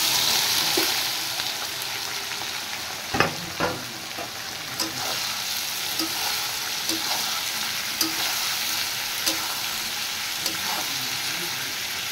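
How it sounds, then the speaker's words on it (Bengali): Chopped onions sizzle steadily while frying with mutton in a pan, with a few soft stirring scrapes and clacks breaking through the continuous hiss. "এবার আমি দিয়ে দেব কুচিয়ে রাখা পেঁয়াজ।"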